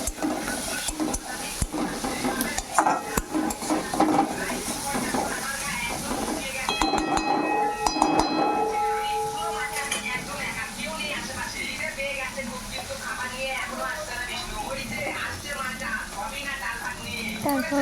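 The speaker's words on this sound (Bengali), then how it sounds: "ভালো করে মিক্স করতে হবে মশলাটা" Spice paste with cumin being stirred and mixed in a pan while cooking prawn malai curry, with scraping and clinking of a utensil against metal over a soft sizzle, moderately quiet and continuous.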